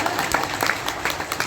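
An audience clapping at a Gita Jayanti spiritual gathering in a Delhi ashram, a dense, steady patter of many hands heard throughout, fairly loud and close.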